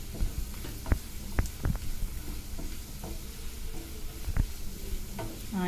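Chilies and spices sizzle steadily in a pan for a fish fry while a utensil stirs them, with repeated scraping knocks against the pan over the continuous frying hiss.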